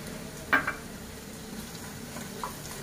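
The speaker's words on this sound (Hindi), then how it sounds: "अब इसमें हम डालेंगे टमाटर।" Tomatoes tipped into a hot pan for a paneer mutter malai gravy: a brief clatter as they land, then a soft, low sizzle that carries on quietly, with no voices.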